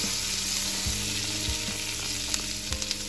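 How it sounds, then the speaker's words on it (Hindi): Garlic sautéing in melted butter in a pan, a steady close sizzle with occasional soft stirring clicks, no voices. "अभी हम गार्लिक को सौते करेंगे"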